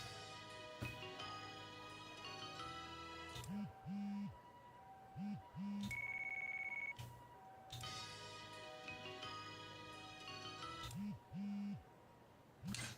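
Phone ringtone previews in the Yakuza Kiwami 3 video game: bright electronic melodic tones and short beeping jingles play one after another, with brief repeated two-note chirps and a sustained high tone between them, clear and alone.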